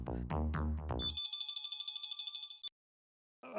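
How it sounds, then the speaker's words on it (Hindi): An outgoing call on speakerphone rings with a steady, bright electronic ringtone of repeated pulsing tones that follows a short burst of music, then cuts off abruptly before the line answers. "अभी जूली को फोन करता हूँ।"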